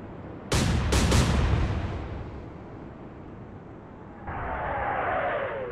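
Naval guns firing HE shells in the game Atlantic Fleet: three loud, sharp booms in quick succession near the start, a long rumbling decay, then a rising whistling rush of shells in flight.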